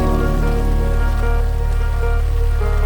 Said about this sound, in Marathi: तेवढ्यात पावसानेही आपलं आगमन केलं आणि पाऊस आल्यामुळे आपले ट्रेक सुद्धा अवघड होत होते